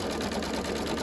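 An embroidery machine stitches the placement line for a planner or date book cover; a close, constant buzzing whir with rapid needle pulses throughout a brief stretch, with no talk.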